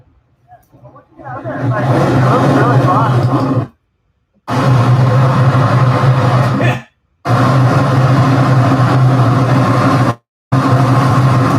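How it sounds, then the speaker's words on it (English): Ocean waves captured raw by a microphone on a beach: a loud, harsh roar of broadband noise in long bursts, broken by abrupt silent gaps. "Just the sound of the wave, Eloy Derville."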